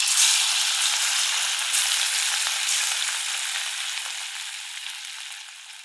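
Cauliflower pakoda batter fries in hot oil with a steady, close sizzle that holds through the clip and eases off slightly toward the end, with no voices.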